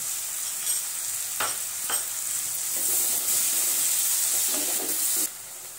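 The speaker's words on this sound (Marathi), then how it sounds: "इथे आपण 2 मिनिटं कांदा परतलेला आहे।" Onions sauté with cumin on a hot tawa, giving a continuous bright sizzle broken by several scraping stir strokes, then dropping quieter at the close.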